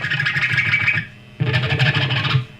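Edge of a pick sliding back and forth on wound electric guitar strings near the bridge pickup: two loud, gritty, distorted scraping bursts split by a short drop in level.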